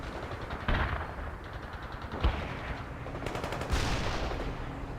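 Battlefield gunfire in the strategy game World in Conflict: bursts of distant machine-gun fire and sharp individual shots crackle over a steady rumbling backdrop, with no talking.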